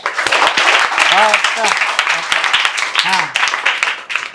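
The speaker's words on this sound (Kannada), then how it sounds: "ಹೊಡ್ರಿ ಚಪ್ಪಾಳೆ" A crowd claps in a dense, continuous round of applause at a children's event, with a voice calling out over it.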